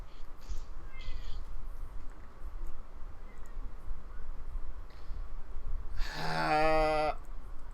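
A cat meows once, loud and close, in a harmonic call lasting about a second, over a steady background hum with a few faint chirps earlier.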